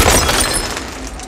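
Glass shatters loudly in a ghost movie scene, a dense close crash of breaking panes that fills the moment and then tapers into scattered tinkling debris.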